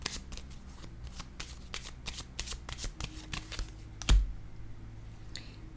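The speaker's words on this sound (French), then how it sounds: "Je vais déposer une autre carte ici." Playing cards are shuffled and laid down on a table in a tarot-style reading, a rapid series of crisp riffling flicks followed by a single firmer slap near the end.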